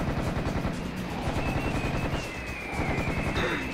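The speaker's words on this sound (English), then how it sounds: "Hey, Tommy gun!" Tommy gun fire in Serious Sam HD, a sustained fast rattle of automatic shots that holds steady and loud through the whole stretch with a dense, continuous texture.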